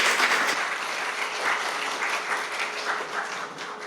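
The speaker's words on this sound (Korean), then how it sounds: "여러분 큰 박수 부탁드립니다." A room full of staff applauds at a parliamentary research office briefing session, dense, even clapping from many hands sustained for several seconds at moderate loudness.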